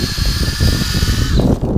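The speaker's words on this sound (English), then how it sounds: "you wanna drill and kind of at an upward angle" A power drill bores into a maple tree trunk on a warm day to tap it for sap, a loud close steady whine with low grinding rumble that cuts off near the end.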